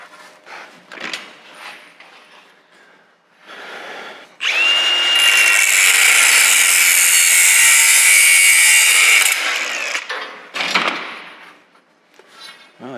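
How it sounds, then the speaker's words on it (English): An angle grinder cuts conduit for a tonneau cover being built for a GMC Roadster. It gives a loud, harsh, sustained whine for about five seconds, framed by shorter rustling and clanking handling sounds before and after. "I'll do a loose cut right around here once I find my grinder."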